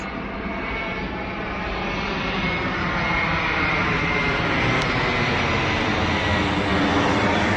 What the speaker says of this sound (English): There's a jet going right across this.